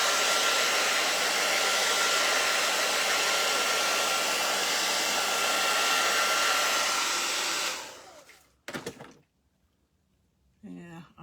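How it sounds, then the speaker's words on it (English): A hot hair dryer blows loudly and steadily for about eight seconds while drying a painted stencil, then switches off, leaving a few handling clicks and a brief faint voice. "A hot dryer dries it fast"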